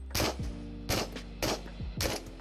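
Pistol gunshots in the video game Into the Radius, four loud close shots in an even rhythm, each a sharp crack with a short ringing tail.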